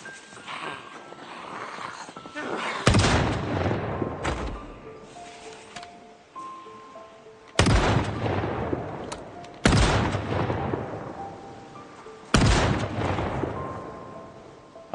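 Loud, sharp shotgun blasts in Project Zomboid, four spaced shots each with a long decaying tail, set against a low in-game ambient background with faint tonal sounds.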